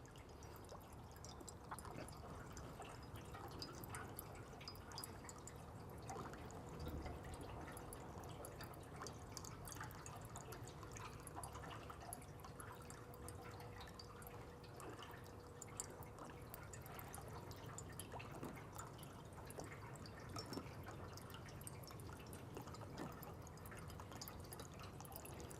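Water pours steadily into the filler tube of a Big Bertha field autoclave, about two gallons added in one continuous, even trickling stream that stays at the same level throughout.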